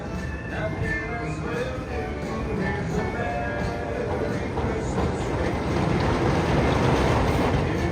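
An InvadR roller coaster at Busch Gardens Williamsburg, an 8-car GCI wooden coaster train, runs on test with a steady rumbling roar and rattling track noise that swells slightly, heard from nearby and without a break.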